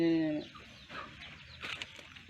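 Hens in a Thai chicken house give scattered soft clucks and a few sharper calls between quiet gaps, ending in a loud burst close by.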